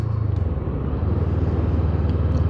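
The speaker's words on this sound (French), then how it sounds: "Ce bruit est déjà magnifique. Avec cet échappement façon trompette là." Brixton Crossfire 500 twin-cylinder motorcycle with a trumpet-style exhaust, heard while riding: a steady, loud, low engine drone with rhythmic pulsing and wind rush throughout, no talk.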